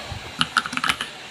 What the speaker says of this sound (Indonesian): Pertama, saya akan mengetik